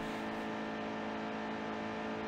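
A NASCAR Xfinity Series race car in NASCAR Heat 2 holds a steady, loud engine drone during a qualifying lap at Las Vegas, its dense harmonic whine sustained evenly throughout with no pauses.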